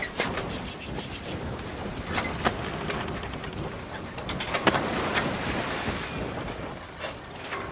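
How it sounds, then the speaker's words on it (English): Leather edge being burnished by hand for a picture frame, a continuous dry rubbing and friction sound with occasional sharper scrapes, close and steady throughout. "But I'm just going to give this a quick edge and burnish."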